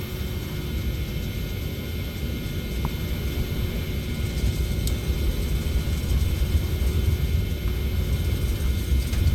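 TFDi 717 jet engines spooling at takeoff power in Prepar3D: a steady, broad low rumble and roar that slowly builds in loudness over the whole stretch, with no talking.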